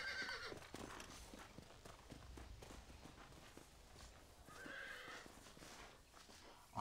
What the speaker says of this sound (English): Why is my horse spooking?